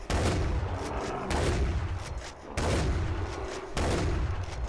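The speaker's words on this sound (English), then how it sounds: "It only takes me a few shots on my shotgun to kill these rhinos." Shotgun blasts aimed at rhinos in the video game Far Cry 4, with four loud booming shots spaced roughly a second apart, each followed by a rumbling decay, with no talk.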